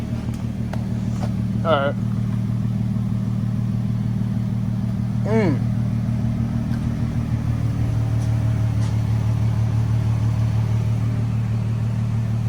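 An Infiniti Q50 with its muffler deleted idles with a loud, deep, steady exhaust drone, rising in a couple of brief revs; a voice speaks briefly over it.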